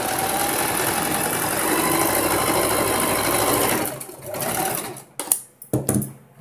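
A sewing machine stitching a blouse runs at a fast, steady whir for about four seconds close by, then slows into a few short, uneven bursts before stopping.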